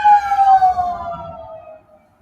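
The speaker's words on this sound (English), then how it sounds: "Ambulance or fire truck or something." Siren from an ambulance or fire truck, a loud wailing tone that falls steadily in pitch and fades as it passes, heard alone without speech.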